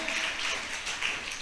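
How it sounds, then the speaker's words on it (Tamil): A church congregation at a Tamil Christian Sunday service clapping together, a brief steady patter of many hands at moderate distance. "கைதட்டுமா எல்லாரும்?"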